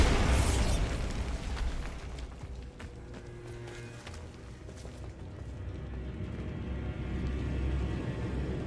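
The Bombarda explosion spell in the video game Hogwarts Legacy detonates with a loud blast, then a long rumbling debris tail that fades slowly over several seconds.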